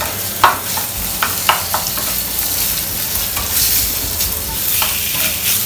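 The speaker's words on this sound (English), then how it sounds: "Saute it nicely." Marinated chicken seasoned with salt and pepper sautés in a pan for coriander fried rice, giving a steady close sizzle broken by several sharp clacks of a spatula stirring against the pan.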